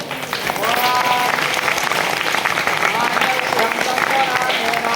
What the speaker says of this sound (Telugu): అందరూ కూడా గట్టిగా చప్పట్లు కొట్టండి